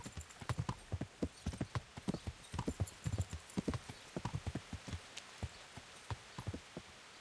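Horses at a horse dealer in the medieval game Kingdom Come: Deliverance clop along on hard ground, a brisk irregular patter of hoofbeats at moderate distance, with no talk.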